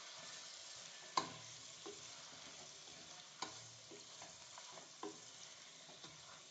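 Chicken fries in a pan for a chicken biryani. A faint, steady sizzle is broken by a few sharp clinks and scrapes as the pieces are stirred, with no talking.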